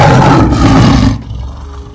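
A voice imitates a tiger's roar, a loud, rough, sustained growl lasting about a second before it drops off into a quieter tail.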